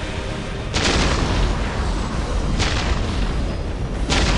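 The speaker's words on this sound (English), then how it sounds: "We will silence that Orc artillery." Ork artillery barrage in Warhammer 40k Dawn of War, loud rumbling booms with sharp cracking bursts at regular intervals over a continuous roar of battle.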